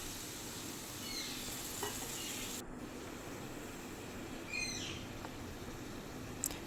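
Ridge gourd and pointed gourd curry simmers with a little water in a pan, giving a steady close hiss and sizzle with a few faint clinks and scrapes.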